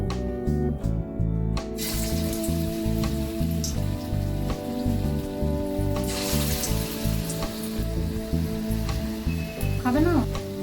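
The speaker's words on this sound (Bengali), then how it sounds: "এবারে আমি পকোড়াগুলো ছোট ছোট করে ভেজে নেব" Potato pakoras fry in hot sunflower oil with a continuous crackling sizzle. Steady background music plays throughout, with a brief voice near the end.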